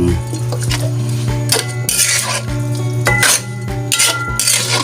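A utensil stirs spicy chicken in a metal pot, scraping and clinking repeatedly in a steady rhythm, close and loud, with steady sizzling underneath.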